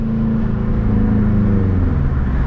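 A 350+ hp Subaru STI pulls hard under acceleration, its engine note a loud, close, steady droning growl that climbs in pitch, with no talking.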